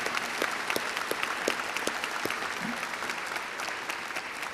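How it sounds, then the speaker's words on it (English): Audience applause at a fall college commencement ceremony, a steady wash of many hands clapping in a large hall, moderately distant and even throughout with no talking over it. "Let's give them a round of applause."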